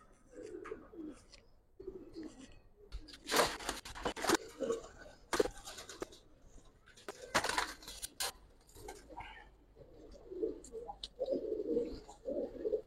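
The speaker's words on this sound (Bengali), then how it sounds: "দুইটাই খুব ভালো জাতের কবুতর" Giribaz pigeons coo nearby in soft, repeated low throaty calls, mixed with sharp clicks, wing rustles and scratching sounds in the coop, rising and falling in loudness.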